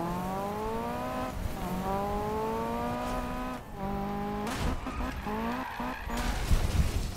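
Cars drift in a Need for Speed racing game, engine notes rising and falling with shifts while tires squeal and skid through long slides, loud and continuous with brief bursts of impact.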